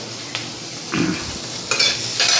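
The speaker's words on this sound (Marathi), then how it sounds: "गॅस मोठाच ठेवायचा। हे सर्व असं व्यवस्थित भाजून घ्यायचं आहे।" Onion and spices stirred and fried in a pan over a high gas flame for misal, with scraping spoon strokes against the pan over a steady sizzle, close and clear.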